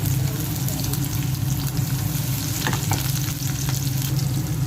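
Onion dropped into a pan with browned garlic and coconut milk for ginataang manok, frying in a loud, continuous close sizzle with occasional stirring clatter, no voices over it.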